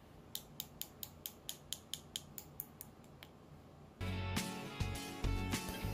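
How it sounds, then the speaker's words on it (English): A hardened acrylic nail ready for filing is tapped with a regular series of about fourteen crisp, faint clicks, followed by louder rustling handling noise. "You know that the acrylic is ready to file once you hear this noise with your acrylic."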